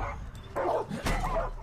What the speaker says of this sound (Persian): سگ پرورش میدن اینجا، چقدر جالب.